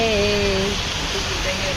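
Heavy rain pours down in a dense, loud, continuous hiss, with a voice talking over it during the first part.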